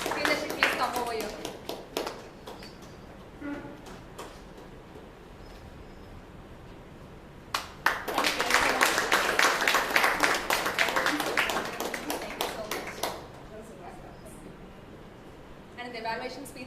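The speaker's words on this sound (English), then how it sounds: "Let's give a big round of applause" Audience applause at a Toastmasters club meeting after a speech contest winner is announced: a dense burst of clapping midway lasting several seconds, with speech before it and scattered claps toward the end.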